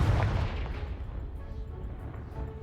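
A Confringo blasting spell explodes in the Hogwarts Legacy video game, a single loud boom at the start that rolls off into a long rumbling decay. It stands alone with no talk over it.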